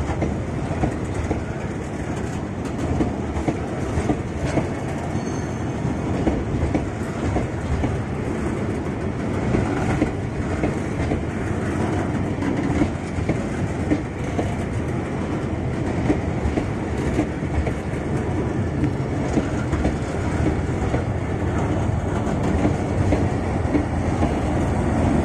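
A 16-car train passes on an elevated high-speed rail track with a loud, continuous rumble and a dense clatter of wheels over the rails that holds steady for the whole passage.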